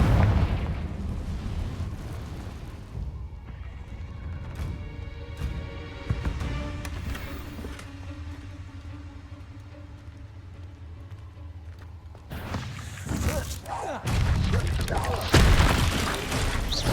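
Booming spell blasts from the Confringo spell in Hogwarts Legacy, a couple of heavy explosions with rumbling tails, the later ones louder and denser, amid game effects and a brief voiced spell call.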